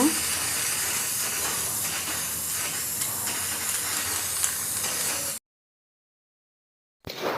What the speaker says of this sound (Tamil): நான் அதை நல்லா குலுக்கிட்டு நான் இதில் வந்து ஸ்ப்ரே பண்ண போகிறேன்.